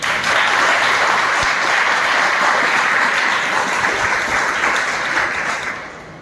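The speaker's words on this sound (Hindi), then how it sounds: "प्यारे बच्चों, जोरदार तालियां लगाओ।" Schoolchildren at a school youth parliament clap loudly and continuously, a dense roar of many small hands that holds steady for several seconds before tapering off at the end.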